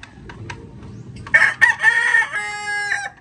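A rooster crows loudly among other farm chickens that were kept in a battery cage, with clucking before the drawn-out crow and soft background noise.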